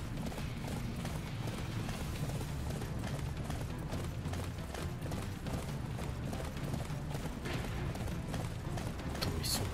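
Steady clip-clop of horse hooves trotting at an even rhythm in the video game Attack on Titan: Wings of Freedom, with faint mechanical game sounds underneath.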